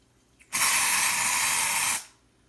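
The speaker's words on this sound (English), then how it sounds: "First I'm going to spray it under here" Colored dry shampoo sprays onto the hair roots in one steady, close hiss lasting about a second and a half, cutting off sharply afterward.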